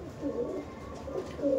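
A male and female pair of Andhra red-vein pigeons coo softly at close range, a low rolling murmur with a couple of short throaty phrases and no talking.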